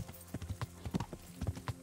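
Horse hooves clip-clopping at a steady walking rhythm in the medieval video game Kingdom Come Deliverance, close and fairly quiet, with no other sound over them.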